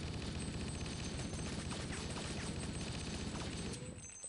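Assault rifle from a Halo mod in a GoldSource game fires in a dense, continuous automatic burst, loud and unbroken, tapering off near the end as the reload begins.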